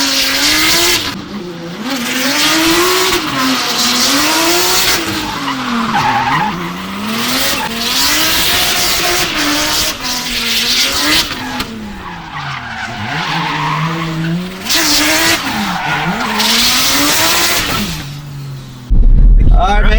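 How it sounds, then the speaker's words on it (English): A Jeep Trackhawk drifts, its tires squealing loudly in long wavering howls over a revving engine for about twenty seconds, ending with a sharp louder burst. "Let's get the drift going"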